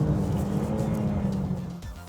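A 2017 Alfa Romeo Giulia Quadrifoglio with a 90-degree twin-turbo V6 hums at a steady, fairly quiet drone that eases off near the end, heard from close by without talk.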